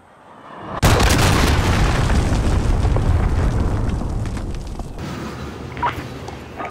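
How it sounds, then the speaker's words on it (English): Cruise missile explosion in Call of Duty: Modern Warfare: a sudden loud boom that erupts after a quiet second, then a long sustained rumbling roar that slowly fades, with a few small crackles near the end. "Enemy cruise missile incoming!"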